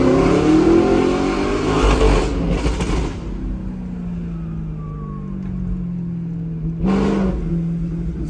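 An Audi R8 engine roars loudly through two sharp revving bursts, settles into a steady droning note, then flares once more near the end, with no talk over it.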